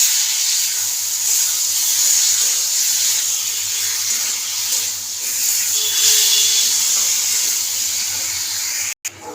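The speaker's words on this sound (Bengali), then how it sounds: "মশলাটা দিয়ে ভালো করে কষিয়ে নেবে।" Spice paste for a bele fish curry sizzles steadily in a pan, a continuous bright hiss that holds at an even level throughout with no talk over it.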